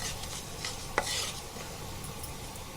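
Cumin seeds hit hot oil in a pan and are stirred, a faint steady sizzle with one sharp scrape or tap near the start.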